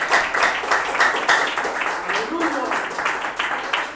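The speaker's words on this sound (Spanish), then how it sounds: "Pues dale un aplauso de guerrero a Dios." A church congregation claps and applauds during a sermon, a burst of fairly loud rhythmic clapping from many hands that fills the room with a voice mixed underneath.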